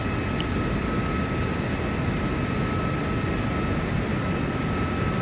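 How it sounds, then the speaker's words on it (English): An airliner's engines roar steadily as it accelerates down the runway for takeoff in Microsoft Flight Simulator, a constant dense rumble with a faint high whine, with no talking. "We want to take this plane off, and we want to get the sucker going."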